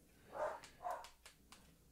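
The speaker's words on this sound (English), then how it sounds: "So I'm going to go deal with dogs because they're being dogs, as they often are." Two muffled dog barks come from a short distance away, followed by a few softer thuds or yips, all faint over low background noise.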